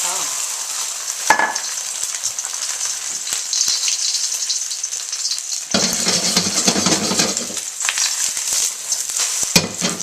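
An egg hits very hot, smoking oil in a pan and fries with a loud, sustained crackling sizzle that surges midway as it spreads, close up and with no talk.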